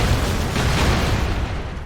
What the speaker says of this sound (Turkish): Bayağı bir patlama oldu.